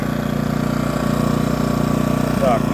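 A Kvitka Pro SC2000i generator runs close by with a steady, rapid putter and an even engine drone. A voice briefly sounds over it near the end.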